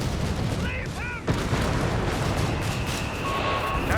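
Gunfire and artillery in a Company of Heroes 3 battle, with sharp cracks and heavy booms in a dense, busy mix of combat noise and a steady tone running underneath.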